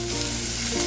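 Onion dropped into hot oil with roasted garlic, a loud, dense sizzle filling the brief moment close up.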